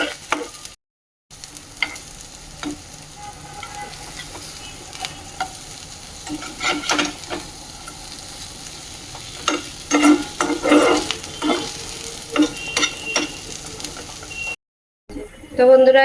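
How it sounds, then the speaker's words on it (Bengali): Mixed vegetables for veg rolls sizzle and crackle in a hot pan, with occasional stirring clatter and scraping over a steady frying hiss. "একটু সবজি দিয়ে দেবো হালকা মানে ভেজে নেবো কিছু সবজি কাঁচা রাখবো কিছু সবজি ভেজে নেবো"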